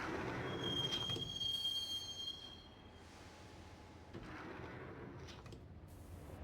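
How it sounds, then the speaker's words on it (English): A subway train rides the rails in the Max Payne game world: a thin, high wheel squeal for the first few seconds over a low, continuous rumbling carriage noise that carries on alone. "the train doors had already shut behind me, and I was in for the ride"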